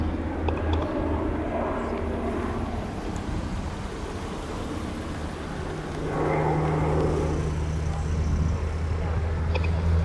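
North American OV-10B Bronco of the Bronco Demo Team flying a display at an air show, a steady droning turboprop rumble that swells louder in the second half, with a low hum throughout.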